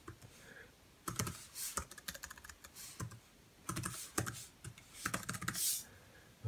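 Someone typing a password on a computer keyboard, quick clusters of crisp key clicks in bursts separated by short pauses, close and fairly quiet, with no talking.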